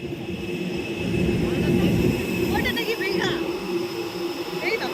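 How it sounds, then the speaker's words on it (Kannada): Strong wind roars and gusts in a continuous broadband rush at an airfield near a small aircraft. Faint bird chirps come through the noise. "ತುಂಬಾ ಜೋರ್ ಗಾಳಿ ಹೊಡಿತಿದೆ"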